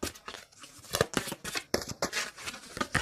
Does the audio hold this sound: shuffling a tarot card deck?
yes